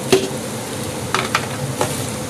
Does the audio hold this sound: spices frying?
yes